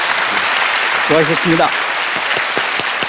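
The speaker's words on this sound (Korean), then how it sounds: "박수 부탁합니다." A studio audience at a Korean lecture show applauds a speaker, a continuous wash of clapping with a brief spoken phrase rising over it partway through.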